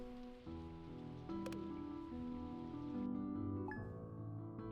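Steady rain patters in the Stardew Valley video game beneath sustained, tonal game music that continues throughout.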